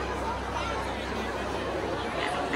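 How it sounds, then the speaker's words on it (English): Steady crowd babble fills a Disney Dream cruise ship atrium as passengers gather around the big Christmas tree before a tree lighting ceremony, a dense continuous hubbub of many overlapping voices. "Big crowd out."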